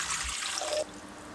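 Tap water runs briefly in a kitchen, a hissing splash that cuts off partway and leaves a quieter trickle.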